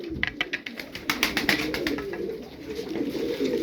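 Game pigeons coo in a close, repeated rhythm of soft throaty calls, with a flutter of wing and body sounds around them.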